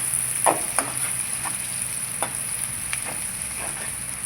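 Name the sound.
onions frying in a pan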